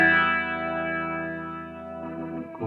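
An Eventide H9 MAX guitar pedal's rotary effect swirls over sustained guitar notes, a warbling chorus-like shimmer fading slowly, with a brief new strum at the end.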